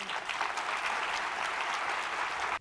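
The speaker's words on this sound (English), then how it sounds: "This is a group of people applauding someone" A crowd of attendees at a Jewish Federation General Assembly applauds steadily and loudly for the whole stretch, with dense overlapping claps and no voices standing out, then stops abruptly.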